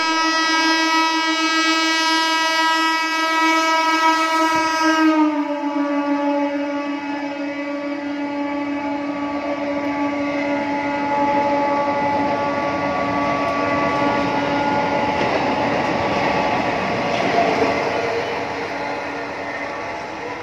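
Galloping local train running fast through Subhashgram station without stopping: a long, loud horn blast sounds first, then a continuous heavy rumble and rattle of the passing train carries on to the end.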